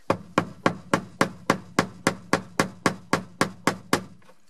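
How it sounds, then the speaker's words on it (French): A hammer taps a screwdriver to turn the fuel pump ring on a BMW E36, about sixteen sharp, evenly spaced metallic strikes in a steady rhythm, close and loud, with no talking. "Je vais direct prendre un tournevis et un marteau pour taper sur l'écran et essayer de la faire tourner"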